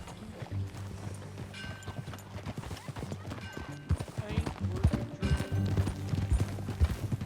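Horse hooves clip-clop at a steady riding pace in Red Dead Redemption 2 while characters talk over them and tack and gear rattle nearby.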